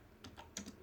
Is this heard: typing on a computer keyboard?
yes